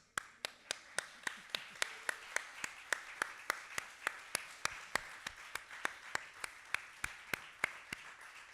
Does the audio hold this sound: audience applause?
yes